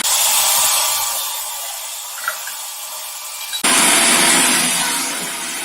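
A blender running while it purees spinach artichoke dip, a steady high motor whine that eases off and then surges back louder after a brief change, heard up close without talk.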